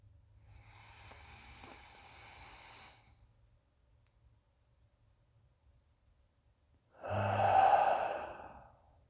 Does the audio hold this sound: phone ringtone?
no